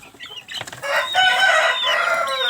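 Chickens cluck and squawk on a worm farm where they are kept above the worm beds, a loud, close, busy flock chatter with shrill, rising calls that build and hold for a couple of seconds.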